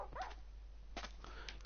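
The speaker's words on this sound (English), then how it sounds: "You dogs are so stupid. Stop jumping into cactuses." Minecraft dogs whimper and yip in short, high bursts after jumping into a cactus, a few quick game-sound cries spaced across a brief moment.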